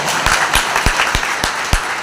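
A crowd at a religious gathering for a Mallamma Jayanti celebration in Ron claps in a steady, rhythmic beat, each sharp clap standing out clearly and fairly close throughout.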